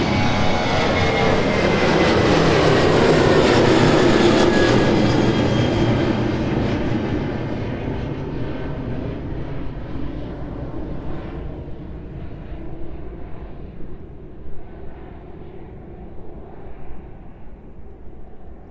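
A departing airliner roars loud and close at East Midlands Airport, its engine noise swelling, then slowly fading into a distant rumble as it climbs away.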